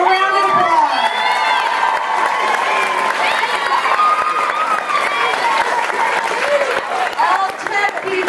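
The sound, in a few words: audience applause and cheering for backstage crew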